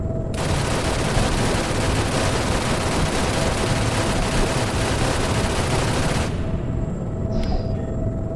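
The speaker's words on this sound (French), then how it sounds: "on me tire dessus" Sustained gunfire in the video game ARGO aimed at the player, a loud dense barrage of rapid shots blending into a continuous roar for about six seconds before cutting off abruptly.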